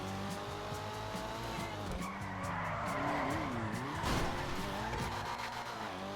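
Tires squeal steadily as a 300R car drifts through corners in a racing video game, the engine roaring continuously underneath with pitch sweeps as it slides, loud and close for several seconds.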